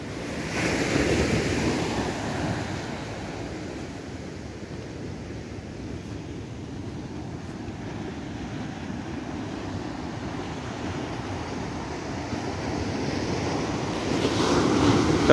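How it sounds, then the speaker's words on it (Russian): Atlantic waves rolling onto a winter beach at Luanco, Asturias, a broad, continuous wash of surf with gusty wind buffeting the microphone, swelling slightly at the start and end. "ну и вот пляж. Пляж. Зимний пляж."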